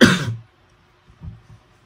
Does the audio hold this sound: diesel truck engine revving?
no